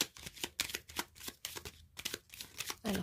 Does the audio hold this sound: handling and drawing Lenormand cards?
yes